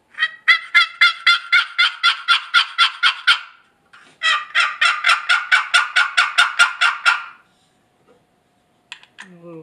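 A homemade wooden turkey box call being stroked, two long runs of rapid, raspy hen-like yelps at a fast even rhythm, loud and close, separated by a short pause and followed by a few faint scrapes.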